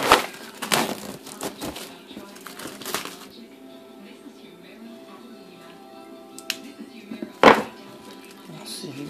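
Packaging of a Call of Duty Ghosts Prestige Edition for Xbox 360 is pulled open, with sharp plastic cracks and crinkling rustles in bursts, near and loud, alongside someone talking.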